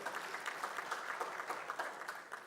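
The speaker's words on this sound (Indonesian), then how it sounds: "Tepuk tangan untuk beliau." An audience applauds Bogor mayor Bima Arya Sugiarto at the launch of the APEKSI Indonesia City Expo, a fairly faint, steady wash of many hands clapping with no voices over it.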